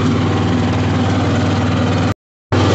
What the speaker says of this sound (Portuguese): Já que eu tô indo guardar o trator, vou aproveitando e vou roçando já a beirada